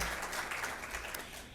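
Audience applause at a township awards ceremony, a steady wash of many hands clapping at moderate distance, sustained through the short moment without talk.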